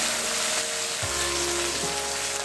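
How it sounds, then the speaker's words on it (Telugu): Fenugreek and mint leaves fry in hot oil in a pan for butter chicken, sizzling steadily and close while being stirred, with no voices. "మెంతి ఆకు పుదీనా ఆకు వేగినంత వరకు కలుపుతూ ఉండాలి"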